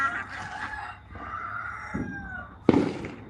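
A roosting rooster crows in drawn-out, wavering calls, fairly faint and from some distance, with a couple of sharp firework pops at the end.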